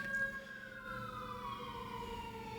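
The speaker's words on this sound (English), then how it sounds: "apparently we have sirens going off" Emergency sirens wail outdoors, a steady rising-and-falling tone that stays loud and continuous throughout, with several overlapping siren voices and no talking.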